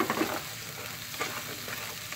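Chicken pieces frying and being stirred in reused chicken-frying oil, with a close, steady sizzle and scraping stirs, no talking.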